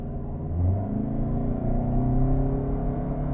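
A 2025 Toyota Camry LE launching hard from a torque-brake start at night, its engine giving a steady loud rumbling drone that climbs in pitch over a few seconds, with no voices.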